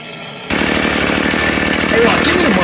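Chainsaw engine running loud and steady right up close, starting abruptly after a short quiet lead-in and droning continuously with a slight rise in intensity toward the end.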